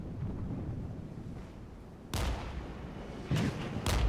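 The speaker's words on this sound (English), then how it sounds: "it looks like the mortars are also doing a good job in harassing this reconnaissance platoon" Mortar fire in the war strategy game Regiments: three sharp, booming impacts land at intervals over a continuous low rumble of battle, fairly loud with no talking.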